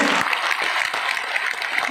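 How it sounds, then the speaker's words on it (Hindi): An audience at a motivational orientation session in Kota claps loudly and densely in a continuous burst of applause, with some voices mixed in. "एक बार हाथ ऊपर करके अपने माँ बाप के लिए जोरदार तालियां बजा दीजिए"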